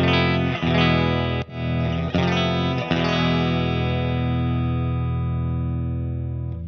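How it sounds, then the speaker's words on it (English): Electric guitar played through an Effectrode PC-2A tube compressor, a sustained chord ringing out loud and even with a few quick restrikes, then decaying smoothly with no pumping. "The PC-2A has a very fast attack, so you don't get that rotten pumping sound"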